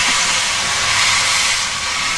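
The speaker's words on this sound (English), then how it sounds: "And they're off in clouds of steam and smoke and noise." Steam locomotives setting off on a heritage railway release a loud, continuous, close roar of hissing steam that fills the whole moment.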